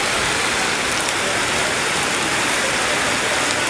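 Heavy rain pours down steadily on a street in Tondo, a dense, unbroken hiss, close and loud, with no other sounds breaking through.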